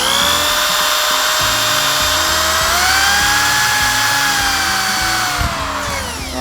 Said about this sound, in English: We'll start by pre-drilling a hole.